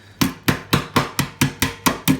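A hammer strikes metal edges down on a chopping board in nine evenly spaced, sharp blows about a quarter second apart, loud and close with no talking.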